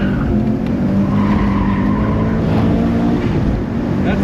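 A rare JDM Subaru launching hard with its engine held at the gas cut, a loud, steady, strained roar with buzzing rev-limiter tone throughout, close and continuous with no talking.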